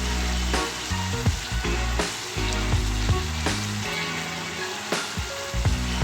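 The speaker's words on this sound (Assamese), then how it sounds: "আৰু কচুথুৰিখিনি ভজালে আমি ভাজি ল'ম ধুনীয়াকৈ গোটেইখিনি ইয়াতে মাংসৰ লগত" Meat and taro stems frying together in a pan, a steady loud sizzle running throughout with a few brief clatters of stirring, no voices.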